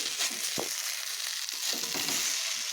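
Helencha greens being stir-fried in a pan give a soft, fairly quiet sizzle with a couple of light scrape or clink sounds, no talking.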